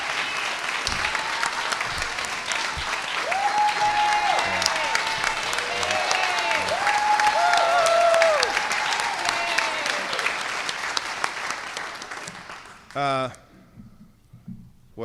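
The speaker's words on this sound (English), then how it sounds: "Well, the applause says it all," Crowd applause during a Seattle mayor's address, sustained clapping with scattered whoops that swells to a peak and then fades out near the end, followed by a brief sound and then quiet.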